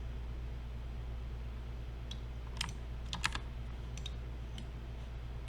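Soft, scattered computer keyboard clicks, a few isolated presses and a short quick cluster, sit over a low steady hum during 3D modeling work.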